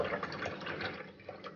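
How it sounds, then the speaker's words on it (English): Coconut milk pours into a blender jar with a soft, brief liquid gurgle and splash, close and quiet, lasting only a moment. "I'm gonna add 1/4 cup of my coconut milk"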